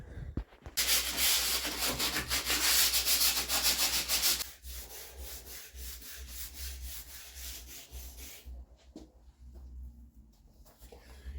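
Brisk, rhythmic hand sanding rasps loudly for a few seconds on a 1975 Vauxhall Viva HC, then stops, leaving quieter rubbing and handling noises with a low hum.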